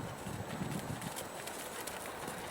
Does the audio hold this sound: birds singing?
no